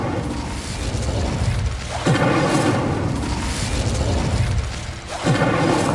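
Incendio fire spells cast in the video game Hogwarts Legacy, two sudden fiery whooshing bursts a few seconds apart, loud over a rumbling game background.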